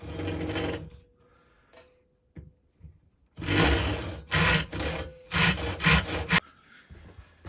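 A piece of wood being sawn off by hand at a woodworking bench, one long stroke then a quiet pause, followed by a fast run of rasping back-and-forth saw strokes close by.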